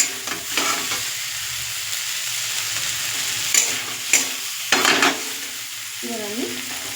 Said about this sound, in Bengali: নাড়াচাড়া দিতে দিতে দেখুন এটা পুরো ঝুরঝুরে হয়ে যাবে।